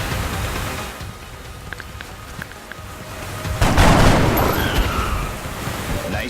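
Gunfire and a heavy explosion in the XCOM Enemy Within video game, with scattered sharp shots followed by a loud, rumbling blast midway over a noisy battle background.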